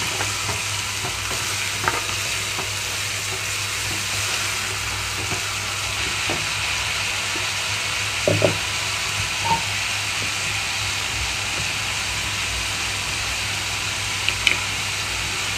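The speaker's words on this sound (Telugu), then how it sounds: "ఇప్పుడు ఇందులోనే పచ్చిశనగపప్పు, నానబెట్టుకున్న పచ్చిశనగపప్పును వేసేసుకున్నాను ఇందులో" Soaked chana dal fries in a pan with a steady loud sizzle and hiss, broken by occasional soft scrapes and clicks from stirring.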